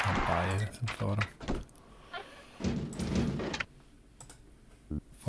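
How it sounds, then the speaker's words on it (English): Keyboard typing from the game Theme Hospital comes as scattered clicks and taps under intermittent voices, with a few louder thunks among them. "Typing up a storm."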